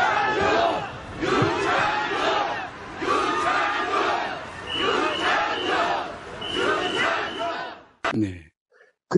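Crowd at a political rally roars and cheers in rolling surges of shouting and applause, loud and continuous for eight seconds before cutting away to brief, muffled sounds.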